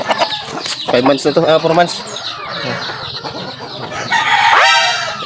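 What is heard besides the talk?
young roosters clucking and crowing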